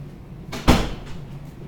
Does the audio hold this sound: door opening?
yes